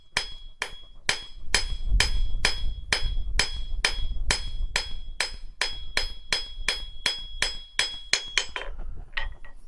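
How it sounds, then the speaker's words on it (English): Hammer forging a metal patio coffee cup and beer coozie holder, flaring its foot with the rounding face: about twenty sharp, ringing metallic blows at a steady, even rhythm, loud and close, with no talk. "using the rounding face of the hammer."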